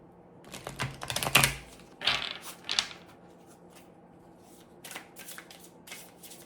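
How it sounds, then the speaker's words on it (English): Playing cards shuffled in quick riffling bursts, close up, followed by a pause and a few lighter card flicks, with no talking. "Let's give it one more shuffle here."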